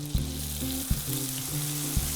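Lemons fry in browned butter in a pan with a loud, steady sizzle, broken by three soft knocks of a utensil against the pan, with no talking.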